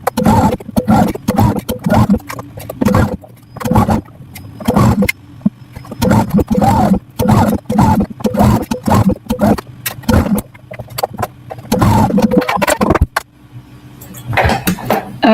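A Husqvarna Viking sewing machine stitches quilt block pieces in repeated short runs, its needle whirring in bursts of a second or two separated by brief pauses, loud and close.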